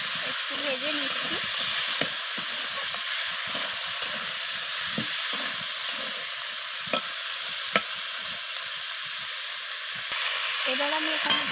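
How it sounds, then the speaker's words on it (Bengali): Potatoes and gourd-leaf stems stir-fry in a pan with spiced tempering, giving a steady close sizzle with scattered scrapes and clinks of the spatula throughout. No one speaks. "তো আলু আর লাউ শাকের ডাঁটাগুলোকে আমি নাড়াচাড়া করে ফোড়নের সাথে একটু ভেজে নিচ্ছি।"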